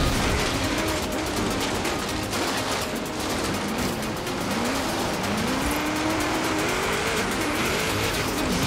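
Race car engine roaring in Forza Horizon 3, revving hard with rising pitch sweeps, tire noise and bumps from jumps, loud and continuous.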